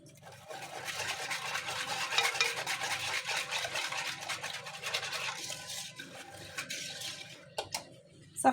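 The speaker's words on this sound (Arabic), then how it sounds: "غادي نزيد واحد شويه ديال القشره ديال الليمون" Lemon peel being grated for zest in a home kitchen while making a cake, a steady close scratchy rasping that runs continuously, ending with a few small knocks.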